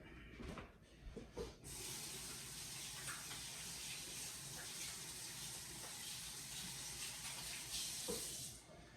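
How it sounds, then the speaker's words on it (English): A kitchen tap runs steadily as hands are washed beneath it, a continuous close gush of water lasting several seconds after a few brief clunks, with no talk. "Now I'm gonna wash my hands."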